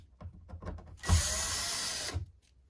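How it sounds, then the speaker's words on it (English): Power drill spinning in one short, close burst of about a second while removing screws from an RV air conditioner on a roof, with light handling knocks before and after. "So I'll pull these screws off,"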